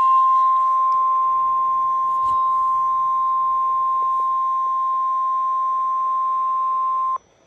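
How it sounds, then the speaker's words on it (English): A weather radio's public warning alarm tone sounds as a loud, steady, continuous pure tone lasting about seven seconds before cutting off abruptly. "We have just activated the public warning alarm tone."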